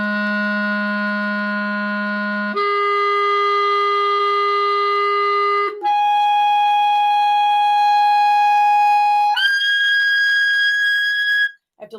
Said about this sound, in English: you'll hear how all over the place intonation is on this clarinet.